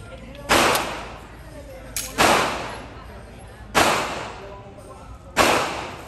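An Armscor RIA 1911 GI pistol fires .45 ACP full metal jacket rounds at a target about 5 to 7 meters away: four loud, sharp reports spaced evenly about a second and a half apart, each trailing off quickly.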